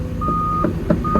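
A steady tonal reversing alarm beeps from a tracked shovel, a couple of long beeps over a low engine rumble and clanking track noise.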